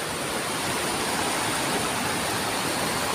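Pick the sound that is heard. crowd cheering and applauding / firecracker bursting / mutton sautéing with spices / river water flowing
river water flowing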